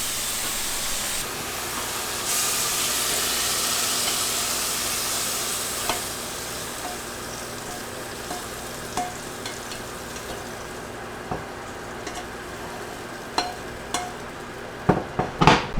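Zucchini and yellow squash noodles stir-fry in a pan with a broad, steady hiss of sizzling that fades after the first few seconds. A few sharp utensil clicks and taps follow, growing more frequent toward the end.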